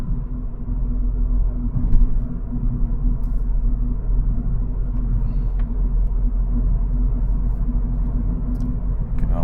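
Cupra Leon estate driving a Swiss mountain pass road near the Klausen, a steady low engine and road rumble throughout, continuous and fairly loud from inside the car.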